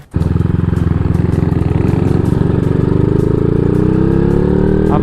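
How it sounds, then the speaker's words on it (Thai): A Honda Wave 125 motorcycle fitted with a titanium exhaust runs loud and close, starting with a sharp burst into a rapid, throbbing idle, then rising in pitch as the rider revs toward the end. "เดี๋ยวผมขอลองเอารถน้องไปลองขี่ดีกว่า"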